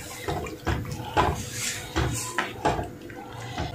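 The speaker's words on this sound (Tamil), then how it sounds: "அளவுக்கு அதிகமாக தண்ணி ஊற்றிடாதீங்க." Water poured into a pot of tomato rasam gives splashy, irregular pulses over a few seconds, close and moderately loud, with light clatter and no talking.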